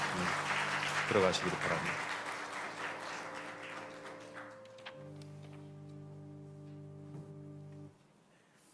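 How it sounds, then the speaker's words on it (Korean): A church congregation at a Christmas Sunday service gives a short burst of applause near the start that fades within about two seconds, followed by soft organ or keyboard chords while a voice speaks. "우리 교구장님들에게 또 모든 속회 지도자들에게 감사하는 뜻으로 큰 박수 보내주시기 바랍니다."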